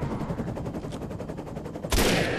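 An enemy minigun in the video game Defiance fires a fast, continuous rattling stream of rounds, close and steady, ending in a sharper, louder blast.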